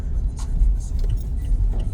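A motorized tricycle passes along a town road lined with shops, its engine a steady close rumble with faint clinks over the top.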